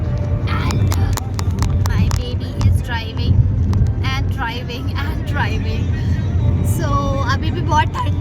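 Car driving on a highway on a long road trip, a steady low engine and road rumble with wind noise filling the cabin, while people talk over it throughout.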